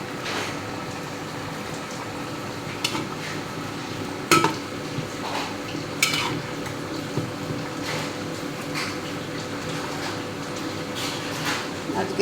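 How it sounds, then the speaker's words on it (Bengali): Pangas fish being cooked with tomato and onion in a pan, with a steady sizzling hiss throughout and occasional clinks of utensil against pan, close and moderately loud. "মাছ ভেজে টমেটো দিয়ে পেঁয়াজ দিয়ে ভুনা করব। পাঙ্গাস মাছ দিয়ে রান্না করতেছি।"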